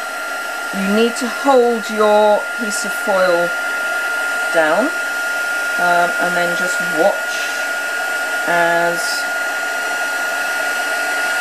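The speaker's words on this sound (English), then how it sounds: "I'm going to just heat the heat gun up." A heat gun blows hot air onto a piece of foil in a steady, loud whooshing roar that runs the whole time, while someone talks over it.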